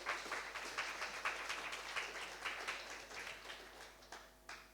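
Audience at a conference opening session in Bangkok applauding, a soft, somewhat distant wash of many hands clapping steadily for a few seconds before tapering off.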